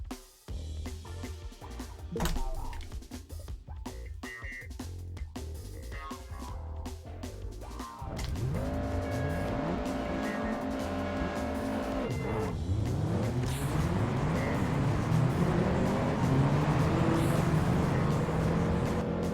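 Racing cars in the video game Juiced scream past with rising and falling engine whines and squealing tires, loud and continuous for the whole stretch, with no voices.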